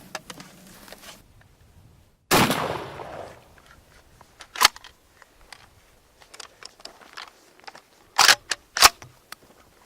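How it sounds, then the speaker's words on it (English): A shotgun fires a number 4 turkey load at a target 35 yards away outdoors. One loud, sharp blast has a long decaying tail, followed by scattered quieter clicks and a few sharp cracks. "I'm going to shoot the first one with the number 4."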